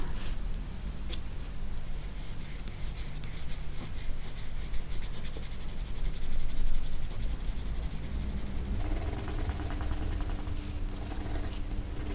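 A red coloured pencil shades across paper for an autumn leaf drawing, a steady, close, soft scratchy rubbing of short strokes that runs on continuously with no voice over it.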